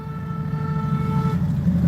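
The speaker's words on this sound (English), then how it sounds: "honked his horn for Spain" A car horn sounds on the Las Vegas Strip at night, a single sustained honk close by, steady for over a second over low traffic rumble.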